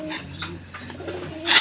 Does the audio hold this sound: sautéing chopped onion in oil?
no